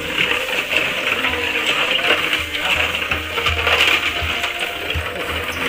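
Non-subsidised urea fertilizer granules, about two kilos, are crushed and stirred, giving a gritty, rattling, grinding texture with irregular crunches and clicks close by, without speech.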